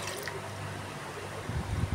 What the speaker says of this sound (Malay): Kita akan blender bersama dengan sedikit air. Okey, tuangkan air.